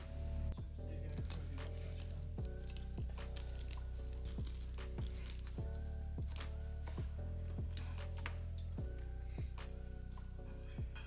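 Crispy crackling on a smoked pork roast crunches under a knife in a rapid series of sharp, close crackles and snaps, fairly quiet, with a faint hum beneath.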